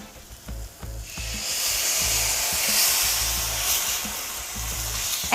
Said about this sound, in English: we are going to deglaze with some wine